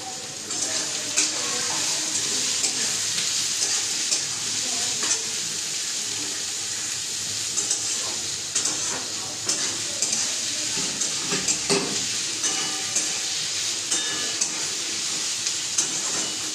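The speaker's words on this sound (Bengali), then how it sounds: "তেল গরম হয়ে গেছে, আর আমি পেঁয়াজগুলো এবারে একে একে দিয়ে দেবো।" Steady, crackling sizzle of onions frying in hot oil, continuous throughout with occasional small pops and clinks.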